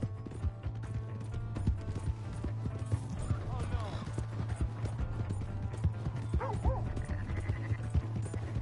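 Horse hooves clip-clop steadily in Red Dead Redemption 2 over a low hum, with a dog yipping and a horse whinnying in between.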